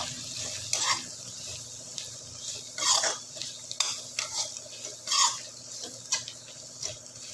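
Black pepper and chilli being stirred into a cooking pot with pumpkin sabzi: repeated scraping spoon strokes against the pot in an uneven rhythm, with a light sizzle underneath.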